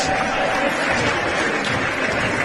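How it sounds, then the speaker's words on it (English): Crowd at a European Tchoukball Championships men's match between Switzerland and Italy applauding on their feet after the game, a steady dense roar of clapping and cheering that fills the whole span. "They're up on their feet applauding."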